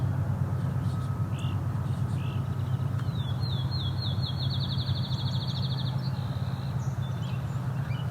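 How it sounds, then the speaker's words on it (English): Faint, high chirps from fledgling song sparrows, including a rapid run of repeated calls, sound from a distance over a constant low rumble. "Appears to be some fledgling song sparrows in an argument."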